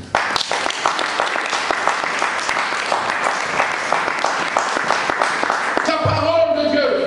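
A church congregation applauds during a sermon, dense continuous clapping filling the room for several seconds before a voice and music take over near the end.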